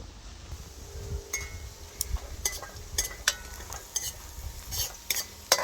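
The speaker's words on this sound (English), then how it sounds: "So the garlic and the onion has started to caramelize." Garlic and onion frying in a pot at an outdoor backyard cook, stirred with a utensil: a low steady sizzle broken by repeated sharp metallic clinks and scrapes, close and fairly quiet.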